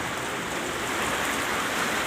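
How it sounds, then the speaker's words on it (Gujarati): Heavy rain pours down steadily during a storm, a dense, loud, unbroken wash of water with no voices over it. "વરસાદ ચાલુ થયો છે જોરદાર, પણ બંધ થતું નથી"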